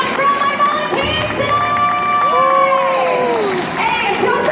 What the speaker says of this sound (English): let's keep that applause going for all my volunteers